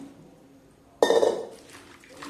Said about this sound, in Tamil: இதை 2 தண்ணி நம்ம கழுவி எடுத்துக்கலாம்.